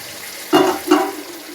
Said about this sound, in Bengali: এবার একটু অল্প একটু জল দিয়ে কষাই নেব